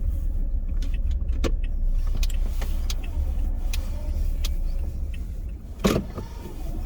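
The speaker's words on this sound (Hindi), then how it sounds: "तो मैं रिवर्स पार्किंग कर रहा हूँ यहाँ पे।" A car reverses slowly into a parking spot on a test practice lot in Oshawa, its engine a low steady hum with a few light clicks and one brief sharp knock near the end.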